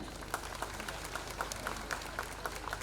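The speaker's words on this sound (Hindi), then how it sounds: "एक जोरदार ताली इस परिवार के लिए हो जाए" An audience at an outdoor inauguration event claps together in a steady, fairly faint patter, with a few sharper claps standing out over a low background hum.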